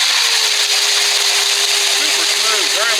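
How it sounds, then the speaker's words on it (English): A 42 volt Icegators electric ice auger with a 9.5 bit drills through ice with a steady, loud, high whirring grind that holds constant throughout, with a faint voice underneath. "I'm going to drill another hole."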